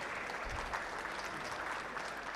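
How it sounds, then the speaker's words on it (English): A conference audience at an investor event breaks into applause, a full, even wash of many hands clapping that holds steady through the short stretch. "can you have a big round of applause?"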